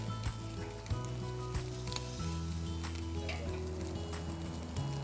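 Steaks sizzling on an outdoor grill, a steady close crackle and hiss of frying fat with small pops, continuous throughout with a low background hum.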